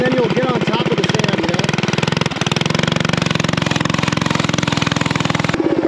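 A Coleman mini bike engine runs nearby with a loud, fast, steady chugging pulse, holding an even idle-like rhythm with a brief dip midway and a sharp cutoff at the end.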